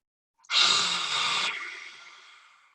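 Deep breath during a yoga exercise, a single long, close airy exhale that starts abruptly and fades gradually over about two seconds, heard alone with no talk.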